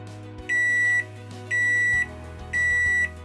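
Three evenly spaced electronic beeps from a microwave oven, each about half a second long, clear and close over a low appliance hum.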